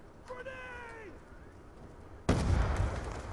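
A grenade goes off in the video game Black Ops 2, a sudden loud blast that erupts late and decays into a rumbling tail, after a brief meow-like tonal sound and quiet background.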